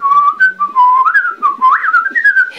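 A person whistles a lilting tune alone, clear and close, with smooth sliding notes and short breaks between phrases.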